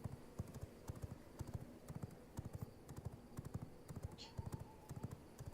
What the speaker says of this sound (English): I need my horse. Where's my horse?